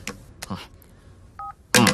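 A telephone gives a short pair of steady dial tones, quiet and close, between scattered knocks and a sudden loud burst of noise, with no talk.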